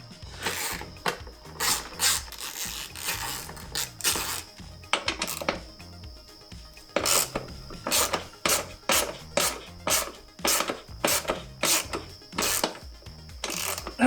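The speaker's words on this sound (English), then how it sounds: "We'll take out our two top bolts that are both 10s." A ratchet wrench clicks in quick bursts while 10 mm bolts are loosened from the fender of an RM 250 motorcycle, with rhythmic ratcheting strokes and brief pauses between them, close and clear.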